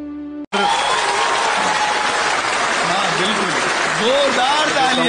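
Enthusiastic applause erupts from an audience at an Urdu poetry recital after a brief spoken line, sustained loud clapping with scattered cheers and voices mixed in throughout.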